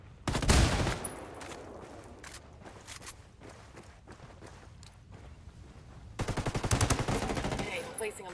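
Heavy automatic gunfire in a Ghost Recon Wildlands PvP match, loud rapid bursts at the start and again near the end, with scattered shots and footsteps between.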